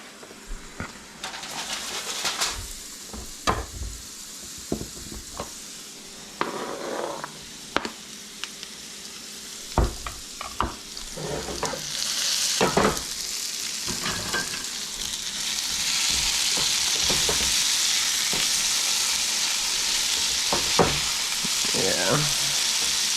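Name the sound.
onions frying in a pan for a breakfast burrito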